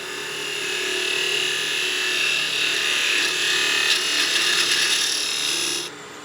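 A skew chisel takes a pass along wood spinning on a lathe, giving a loud steady scraping hiss over the motor hum for several seconds before easing off.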